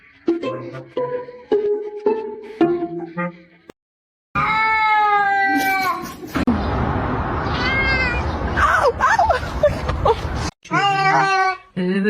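A cat meows in a string of short, close calls, then breaks into long, loud, drawn-out wailing yowls with brief gaps between them.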